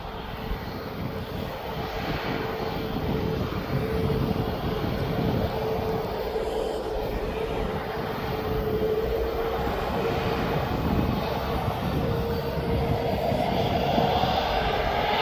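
Airliner jet engines roar steadily at East Midlands Airport as an Ethiopian airliner heads north over the airfield, a sustained loud rumble with a droning tone and no voices.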